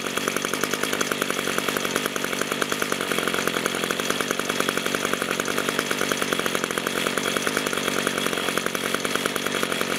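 An Echo SRM-230 string trimmer's small gasoline engine runs steadily and close by, a continuous buzzing drone with no pauses for the full stretch.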